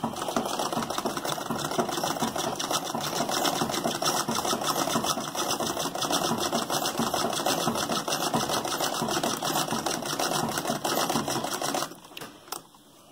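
A sewing machine zigzag-stitching an elastic ruffle onto knitted fabric runs in a fast, continuous mechanical chatter for about twelve seconds, close and loud, then slows and stops.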